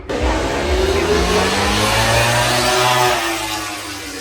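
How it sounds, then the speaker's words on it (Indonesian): MotoGP racing motorcycle engines revving loudly at a circuit pit area, a continuous close roar with rising and falling pitch sweeps as the bikes run out. "Sekarang Marquez masih coba running."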